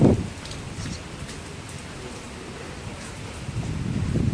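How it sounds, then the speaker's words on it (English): Heavy rain pours at the Dragon Tiger Pagodas in Kaohsiung, a continuous dense hiss of falling water with stronger bursts at the start and end. "Yes, the rain has started up again."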